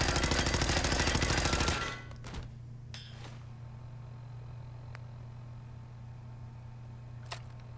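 Rifle gunfire in Fallout 4: a dense, rapid burst of automatic shots for about two seconds, then a few scattered clicks and faint impacts over a steady low hum.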